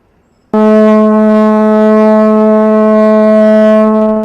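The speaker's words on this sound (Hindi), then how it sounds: "अब बजाइए भोंपू जोर से।" A loud, deep vehicle horn blares in one long sustained blast, starting abruptly after a moment of quiet and holding steady.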